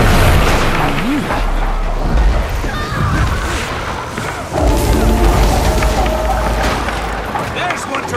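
Cannons fire in the online game Guild Wars 2 during a ranked PvP match, loud booming thuds and blasts at intervals. Game voices and player chatter run over them.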